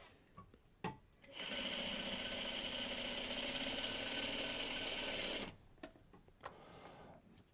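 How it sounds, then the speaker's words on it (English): Sewing machine chain stitching quilt block pieces for a basket block, running in one steady, fast, loud burst of about four seconds, with quiet handling noises before and after. "This time we're going to sew directly right on that marked line."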